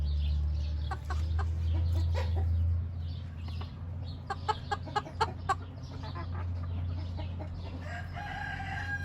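Spanish chickens cluck and call in short bursts around a coop, with a quick run of sharp clucks midway over a low steady hum.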